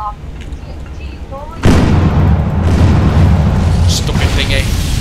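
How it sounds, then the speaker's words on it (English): An MP7 machine gun fires in a third-person action game, a sudden heavy burst that starts a dense, sustained rumble of rapid shots, preceded by quieter game sounds and tones. "What's she using? A machine gun."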